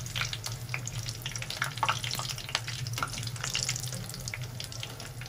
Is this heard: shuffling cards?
no